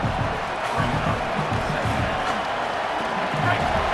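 Stadium crowd noise roaring steadily throughout a College Football 27 video game matchup between Washington and Michigan, a dense, loud swell of cheering with no other sound standing out.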